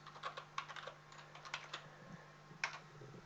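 Soft clicking keystrokes on a computer keyboard, typed in short irregular bursts, quiet and close with no voices.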